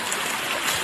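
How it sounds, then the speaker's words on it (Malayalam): A small village stream in Pathanamthitta runs with low water, a steady close broadband rush and trickle with no talk over it. "ഇത് നമ്മുടെ തോട്."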